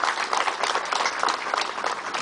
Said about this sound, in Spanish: recibámoslo con unos fuertes aplausos